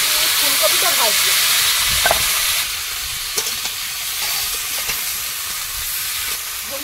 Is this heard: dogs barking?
no